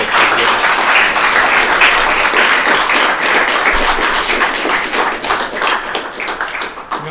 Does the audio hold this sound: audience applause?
yes